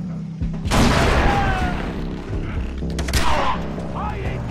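A grenade blast in Far Cry 3 bursts loud and near, followed by a second booming hit and scattered combat noise, with a voice shouting over the action.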